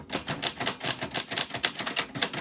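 Typewriter keys striking in a steady, quick rhythm, about a dozen sharp clacks close up and alone, each with a bright metallic snap, typed while writing poetry and letters.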